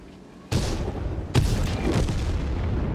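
Two heavy booming blasts of a tank cannon firing in World of Tanks, each striking hard and leaving a rumbling tail of battle noise.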